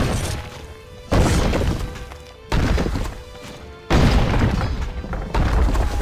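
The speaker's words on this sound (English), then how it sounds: "this tower is almost destroyed again. Oh wait, there it goes." A tower crumbles and collapses in the medieval strategy game Stronghold Crusader, loud repeated crashing booms of breaking stone arriving in several heavy bursts over a constant battle din.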